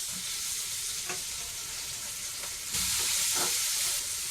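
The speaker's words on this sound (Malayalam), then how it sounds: "ഇനി നമുക്ക് സവാള ഇട്ട് കൊടുക്കാം" Chopped onions dropped into hot oil with cumin seeds in a pan give a steady, close sizzling hiss that swells louder partway through, with light stirring scrapes and no voices.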